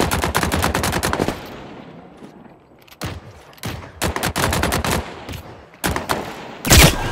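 Automatic gunfire in the sci-fi shooter The Cycle: Frontier, fought in a starport warehouse: a long sustained burst, then a quieter lull, then several sharp, loud volleys with short gaps between them. No voices are heard.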